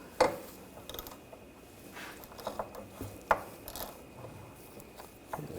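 A ratchet wrench works the nut off a sway bar link on a 2007–2013 BMW X5, with sparse metallic clicks and scrapes, one sharper click, amid quiet handling noises and no talk.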